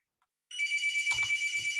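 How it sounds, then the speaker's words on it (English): A phone starts ringing with a sustained bright electronic ring that carries on for more than a second, nearby and loud, with brief low knocks partway through. "now phone ringing."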